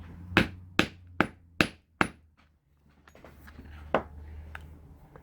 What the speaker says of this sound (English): I'm going to place our hole punch, and I'm hammering it with a rawhide mallet.